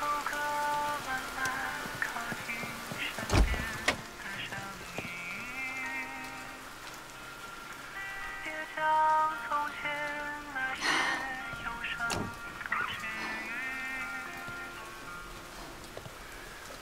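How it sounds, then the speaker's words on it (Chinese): Heavy rain falls steadily on an outdoor surface at night, a dense wash of drops running throughout, with soft music and a brief low thump mixed in. "毛毛，我 啊那个，下那么大雨，你早点回家吧"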